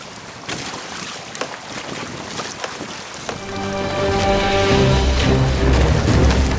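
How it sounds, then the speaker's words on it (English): Strong wind buffeting a sea kayak while trolling for little tunny, heavy rushing gusts and microphone wind noise that build louder partway through, along with splashing water and a rising motor-like hum. "The wind is strong."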